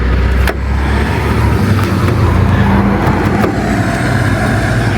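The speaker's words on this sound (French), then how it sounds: "Désolé, il y a un camion, mais on continue." A truck passes on a road outside a château, its loud engine rumble close by and steady, with a brief thump near the start and no voices over it.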